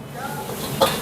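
Curry fried rice stir-fried for two portions in a busy restaurant kitchen, a brief sizzle with a spatula scraping the pan and a sharp metallic clink near the end.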